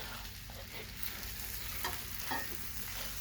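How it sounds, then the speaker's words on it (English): Venison and potatoes frying in cast iron on a woodstove, a steady dense sizzle with a few soft scraping stirs, close and fairly quiet. "so now he's going to stir them up, get them all nice and mixed up"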